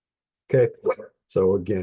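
A pet dog barks a couple of short, close yaps, mixed in with a person talking nearby.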